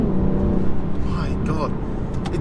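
A 2017 BMW 435d xDrive diesel accelerates hard, its engine note droning close inside the cabin and dipping briefly through a gear change, with a voice talking over it.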